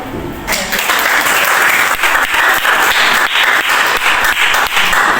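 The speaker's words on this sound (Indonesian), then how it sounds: "Bagus, tepuk tangan buat" A classroom of students claps together, loud and close, in a dense run of hand claps that starts abruptly and holds steady with faint rhythmic peaks.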